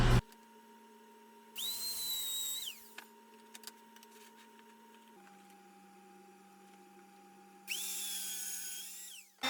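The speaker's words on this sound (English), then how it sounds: "Using a dado stack and a feather board at the table saw, I'm going to run a groove through all the stiles and rails of the barn gate" A table saw fitted with a dado stack and a feather board cuts a groove through wooden stiles and rails for a barn gate, two loud whining passes separated by a steady motor hum, with no talking.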